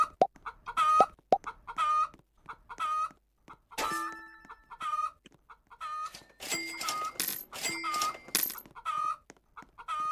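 Chickens in a chicken farm video game cluck in short repeated bursts, a steady run of small clucks joined midway by a denser, louder cluster of overlapping calls and brief chimes, with no one talking.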